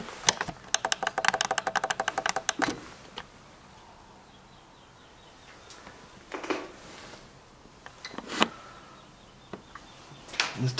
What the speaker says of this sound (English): There's timers, look.